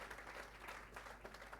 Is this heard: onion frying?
no